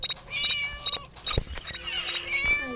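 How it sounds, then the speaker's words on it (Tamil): A kitten meows repeatedly in short, high calls, fairly close and clear, alone with no talking. "இந்த பூனை தான் இங்கே இருக்கு ஐயா பூனை குட்டி"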